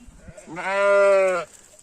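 A single sheep bleats clearly once inside a new barn, a sustained nasal call of about one second, close and alone against a quiet background.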